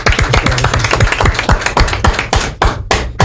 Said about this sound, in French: On peut l'applaudir sur le plateau.